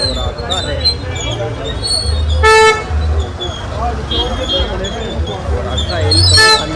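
Heavy street traffic in a crowded busy area, with a loud steady rumble of engines and two sharp car horn blasts, one partway through and one near the end, mixed with a person talking.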